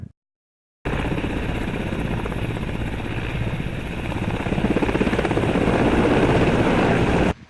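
A helicopter flies nearby with a steady, loud rotor thrum after a brief silence, growing slightly stronger toward the end.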